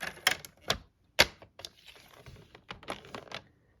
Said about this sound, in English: you're going to score it with the 8 1/2 inch edge to the top of the trimmer